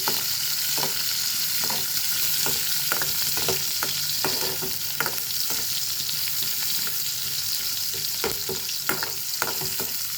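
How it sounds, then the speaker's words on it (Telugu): Onions frying in oil in a pan while cooking a Telugu-style dried fish and brinjal curry, a steady close sizzle with repeated stirring scrapes and clicks throughout, no talking. "ఎర్రగడ్డ, వేసిన తర్వాత కొంచెము నూనెలో వేయించుకోవాలి."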